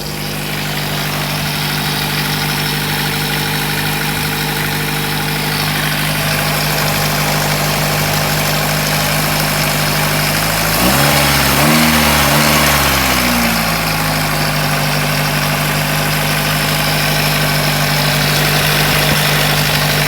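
A Nissan Sunny car converted to run on gas idles steadily after starting, a close, continuous engine hum with a brief rise and wobble in revs midway before settling back to a smooth idle, no talking.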